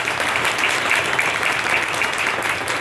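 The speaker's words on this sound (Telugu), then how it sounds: "అందరినీ ఒక్కసారి గట్టిగా క్లాప్స్ చెప్పండి" An audience claps together at a devotional music event in a temple, a dense, steady round of applause heard close and loud without a break.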